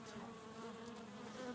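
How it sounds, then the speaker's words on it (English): A swarm of bees drones in a garden scene in the Sherlock Holmes Crimes & Punishments video game, a soft, continuous buzzing with no speech. "Holmes, where have all these wretched bees come from?"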